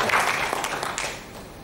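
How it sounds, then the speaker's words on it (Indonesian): Applause from a live audience at a cultural performance celebrating Bugis heritage, a short burst of dense clapping that starts fairly loud and then thins and fades. "Silakan berikan tepuk tangannya"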